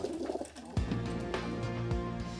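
Homing pigeons returning to the loft give soft, low cooing, a throaty murmur that swells into repeated close coos over a steady background hum.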